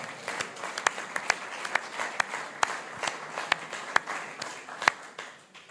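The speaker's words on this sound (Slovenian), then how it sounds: "Prosim za en aplavz za vse tri paneliste." An audience at a European Union panel discussion claps for three panelists, a sparse room of individual hand claps standing out as distinct sharp hits over a continuous patter, with no voices.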